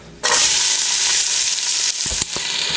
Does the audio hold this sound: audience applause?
no